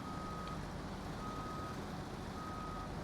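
Repeated electronic reverse-alarm beeps from a truck in SnowRunner, three long steady tones spaced about a second apart over a constant loud engine rumble, no talking.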